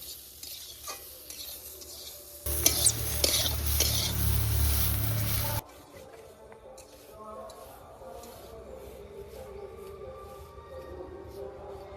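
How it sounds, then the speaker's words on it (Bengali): Jujube pickle frying in a pan with jaggery and a little turmeric, giving a loud sizzle with stirring and clatter for a few seconds before it drops to a quieter background. "আর এখন দিয়ে দেবো অল্প পরিমাণে একটু হলুদ। এটা ভালো করে ভেজে নেব।"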